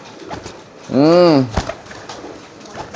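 A pigeon gives one loud, close, drawn-out coo with a rising then falling tone, surrounded by quieter rustling.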